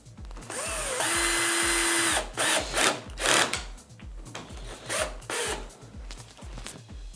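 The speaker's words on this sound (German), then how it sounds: "Damit ich den Türrahmen jetzt oben an der Wand montieren kann, muss ich ihn noch bohren." A power drill boring into a wooden insect-screen door frame whirs in bursts, a sustained run followed by shorter stop-start revs, close by with some rubbing and handling noise between.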